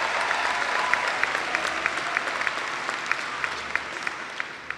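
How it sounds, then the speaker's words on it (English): A graduation audience at a technical college commencement ceremony applauding the instructors, a sustained, even round of clapping from a large crowd with a few sharper individual claps standing out near the front. "so let's give our instructors a round of applause as well."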